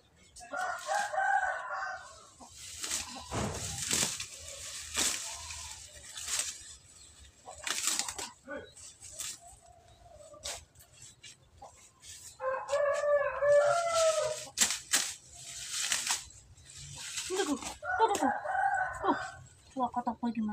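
In a backyard being cleared of brush, a rooster crows several times, both near and farther off, while chickens cluck in between. Rustling and faint activity fill the gaps.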